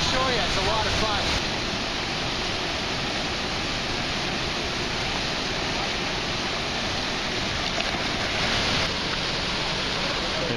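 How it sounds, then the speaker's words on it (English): Rushing water of the upper Myra Falls, a glacier-fed waterfall with swimming pools, roars as a steady, loud, broadband wash throughout, close by with no pauses. "There's the upper part of Myra Falls"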